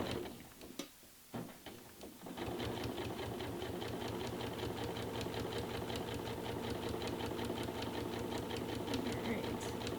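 A sewing machine stitches steadily at close range, its fast rhythmic whirr running continuously after a few opening clicks and knocks.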